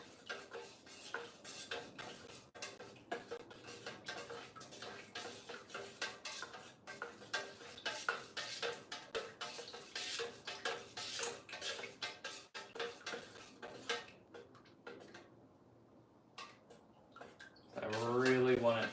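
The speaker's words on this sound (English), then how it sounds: "But can't let it distract me from stirring. So we're gonna keep stirring." A candle-making mixture is stirred in a container, giving a steady run of light clinks and scraping ticks that carry on for most of the stretch before a brief louder burst at the end.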